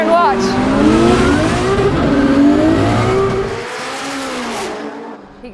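A Formula Drift car launches down a drag strip, its engine roaring loud and close as it revs through the gears, a sustained rising howl that eases off toward the end.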